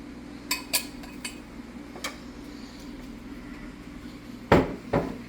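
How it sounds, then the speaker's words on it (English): Frozen vegetables tumble into a pan for Chinese fried rice with a couple of sharp clattering impacts, following earlier light clinks of utensils, with no talk over them. "Okay, so I'm going to dump some vegetables in here."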